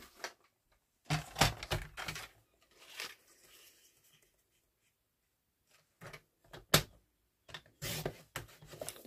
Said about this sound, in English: So I'm just going to cut these down at 2.